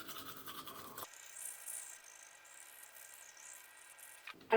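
A toothbrush scrubs the roof of a mouth, the gums, the cheeks and a lower denture to clear biofilm, giving a close, soft, high-pitched bristly rasp that runs steadily for a few seconds.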